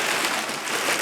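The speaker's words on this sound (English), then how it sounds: "it's starting to rain a little bit" Light rain falls outdoors beside a garden worm tote, a soft, even patter of drops that stays steady and moderately loud across a brief moment.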